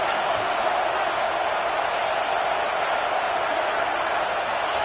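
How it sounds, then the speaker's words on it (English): Football stadium crowd roaring steadily as the home defense faces a red zone stand, a dense, continuous wash of cheering at constant loudness with no break. "And here comes the noise. This crowd is trying to inspire this defense to make a big red zone stop."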